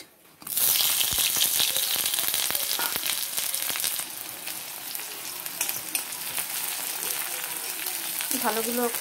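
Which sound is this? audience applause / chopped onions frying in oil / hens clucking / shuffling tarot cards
chopped onions frying in oil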